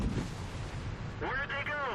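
A tank cannon firing in the World of Tanks video game, one heavy booming shot rolling under a constant low rumble of engine and battlefield noise, with a tonal whine near the end.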